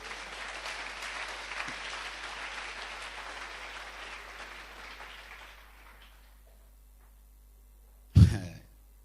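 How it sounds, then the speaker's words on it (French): A church congregation at a French-language worship service applauds in a dense, sustained wash of clapping that gradually fades out, followed by a brief sharp thump near the end. "acclamez leur sincérité"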